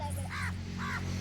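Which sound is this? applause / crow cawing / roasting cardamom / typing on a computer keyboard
crow cawing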